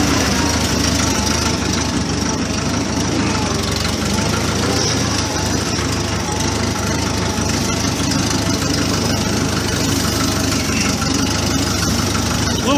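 An Allis Chalmers D17 tractor idles steadily at close range with a low, even engine drone while backing out of a barn, and a voice is faintly present over it.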